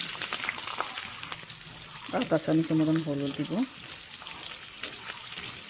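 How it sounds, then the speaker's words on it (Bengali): Small-cut pieces of Amul paneer fry in hot oil in a wok, a steady crackling hiss running throughout while a voice speaks over the middle. "কড়াইতে তেল গরম হয়ে গেছে, এখন পনিরটা ভেজে নিব"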